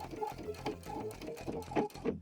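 A sewing machine fitted with a stitch-in-the-ditch foot runs close up, with a quick, even mechanical ticking of the needle and a light whirring motor throughout.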